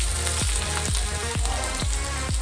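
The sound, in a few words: onions frying in oil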